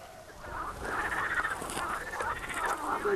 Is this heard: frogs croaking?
yes